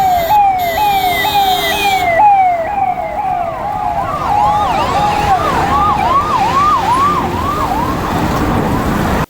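An ambulance carrying a liver for transplant, escorted by police through traffic in Vinukonda, sounds its siren loudly and continuously, the wail shifting to a faster yelp midway, over road noise.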